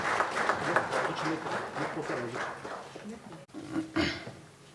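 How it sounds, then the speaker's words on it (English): Audience applause fills a hall at a formal government event, steady clapping from many hands running throughout with a brief dip near the end before a fresh swell, heard under an announcer's voice. "Ladies and gentlemen, with a huge round of applause"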